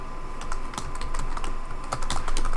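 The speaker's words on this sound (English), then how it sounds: "Then I'm going to type in WX default" A Mac computer keyboard is typed on at a steady pace, a close, quick run of light clicks with a few sharper keystrokes and a faint hum underneath, and no speech.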